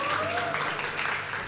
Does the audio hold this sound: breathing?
no